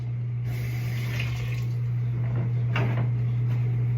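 A Honeycrisp apple rinsed under a running kitchen tap, a steady close stream of water with a low hum beneath and brief splashy swells as the fruit is turned.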